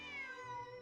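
A single cat meow in a video game: a short, tonal, slightly falling cry, clear and close, with nothing else heard.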